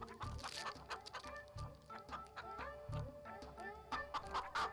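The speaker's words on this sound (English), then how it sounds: "A hen with her 3 chicks was living happily." A mother hen clucks with her three chicks, busy overlapping clucks and chirps in a lively barnyard scene that never falls quiet, with no talking.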